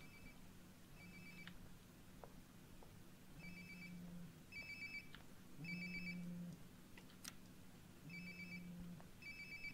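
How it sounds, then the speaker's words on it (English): A cellphone rings in the video game Life is Strange: Before the Storm, with repeated short electronic ringtone bursts over a low ambient game hum, moderately faint and steady throughout. "Sounds like my phone is definitely nearby."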